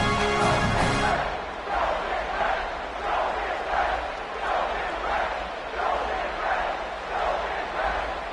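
Home crowd roaring and chanting in a college football video game, a steady rhythmic swell of many voices that pulses every second or so, with a commentator's voice over it.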